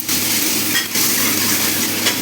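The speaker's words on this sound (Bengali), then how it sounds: "সামান্য জল দিয়ে দিয়ে মশলাটা একটু কষে নেব।" Spice paste of green chillies, salt, ginger, cumin, coriander paste and sugar frying in a pan with a little water, a loud close sizzle with brief stirring scrapes.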